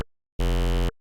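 A Phase Plant synth tone through a formant filter with pinch and two dispersers smearing it: one short, steady, buzzy note lasting about half a second, loud and alone with no talking.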